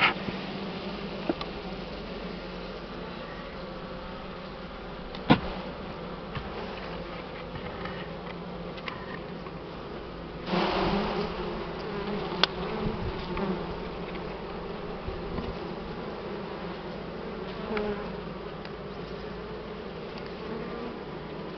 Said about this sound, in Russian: Сгоню пчел, чтобы меньше было в крае.